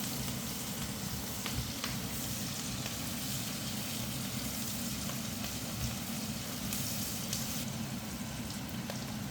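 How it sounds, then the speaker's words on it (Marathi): Onion sizzles steadily in hot oil tempering with a little turmeric while being sautéed for a broccoli dish, a constant close frying hiss with no pauses. "तर त्या फोडणीमध्ये आपण थोडीशी हळद ॲड करूया आणि कांदा थोडा परतून घेऊया."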